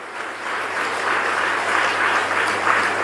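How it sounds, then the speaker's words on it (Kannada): A crowd claps together at a Kannada religious discourse, producing a steady, dense wash of applause that holds without a break for the whole stretch. No voices rise above the clapping. "ಒಂದು ಜೋರಾಗಿ ಚಪ್ಪಾಳೆಯನ್ನು ತಟ್ಟುವಂಥ ಪ್ರಯತ್ನವನ್ನು ನಾವು ಮಾಡಬೇಕಾಗ್ತದೆ"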